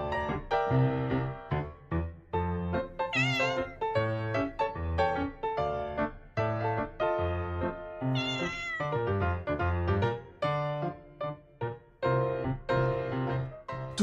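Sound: cat meowing

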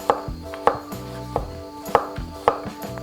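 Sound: knife chopping zucchini into small pieces

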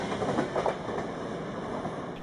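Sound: train travelling on rails

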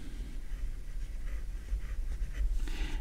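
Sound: Picasso 902 fountain pen stiff medium nib writing on paper

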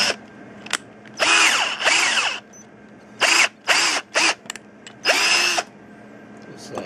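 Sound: power drill boring through material

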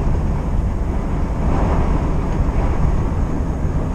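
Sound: strong wind outside a truck

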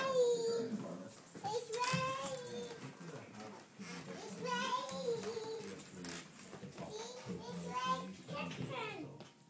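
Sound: dogs

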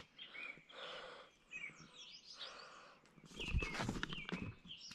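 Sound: birds chirping in the morning

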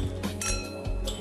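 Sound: glasses clinking in a toast

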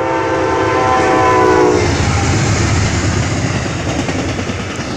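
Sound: Amtrak Coast Starlight passenger train passing with horn

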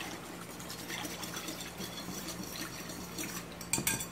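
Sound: whisking a white wine marinade in a bowl

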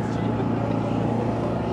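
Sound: car engine running at a car show

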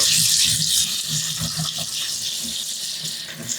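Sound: poha (flattened rice) being washed in water

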